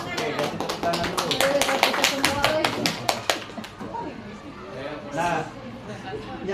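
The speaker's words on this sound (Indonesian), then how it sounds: "Oke, kasih tepuk tangan dulu." Classroom participants break into a short burst of clapping that quickly thins to scattered claps, with chatter and talk continuing underneath.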